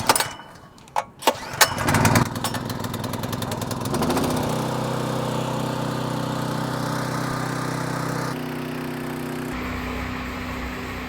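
A small petrol engine on a homemade fire-suppression tanker pump is pulled and sputters through a few false starts, then catches and settles into a steady, loud running drone that holds to the end, its tone shifting slightly near the close.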